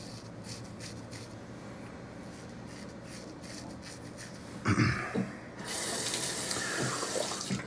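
Tap water runs into a sink to rinse shaving whiskers from a razor, a steady close splashing rush that begins in bursts and then flows continuously to the end.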